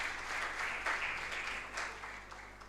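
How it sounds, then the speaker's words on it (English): Audience applause at a campaign launch event on ending child hunger in schools, a soft, steady patter of clapping heard at a distance. "Let's give them a round of applause"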